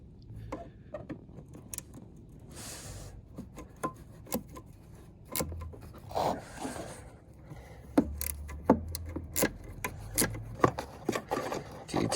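A plastic Torx bolt is worked loose with a hand tool from a Jeep JL tail light. Faint, scattered clicks and scraping rubs sound close up in a quiet setting.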